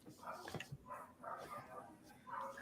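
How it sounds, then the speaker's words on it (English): Several dogs barking in a home, repeated yaps and barks coming in bursts at a moderate distance, faint and mixed with some whimpering. "And the dogs are barking."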